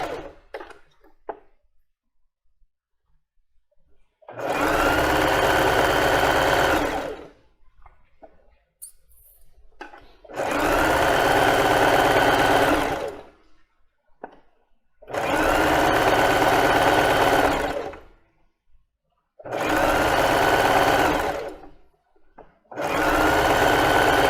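A domestic sewing machine stitches fabric for plus-size underwear, running in five loud, steady bursts of a few seconds each, separated by quiet pauses with light handling noises.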